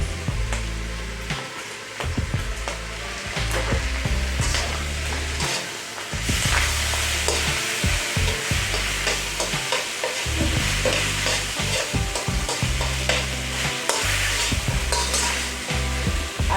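Green onion tops and bean sprouts frying for fried rice, a loud continuous sizzle with constant stirring and scraping in the pan, close by and without talk.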